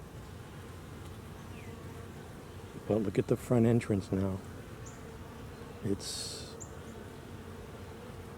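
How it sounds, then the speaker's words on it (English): Low bee buzzing drones faintly around a hive in the background while a person speaks briefly in the middle, followed by a short higher buzz. "these bees are frantically trying to get through the mesh on the vent holes."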